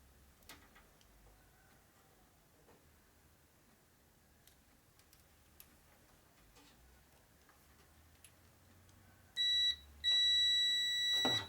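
Quiet faint ticking background, then near the end two loud, sustained electronic beeps from a nearby multimeter, the second longer than the first.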